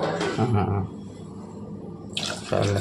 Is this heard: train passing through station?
no